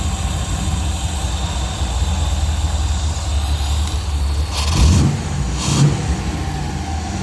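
A Rover V8 engine fitted with twin SU carburettors idles steadily and close by, then gets two short blips of revs around the middle of the clip before settling back down. No one speaks.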